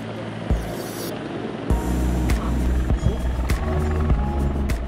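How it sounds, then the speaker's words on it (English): A private helicopter lifting off from a helipad, its engine and rotors making a loud, steady close-up roar broken by scattered knocks and clicks. "the helicopter takes off instantly without the requirement of speeding up on the runway"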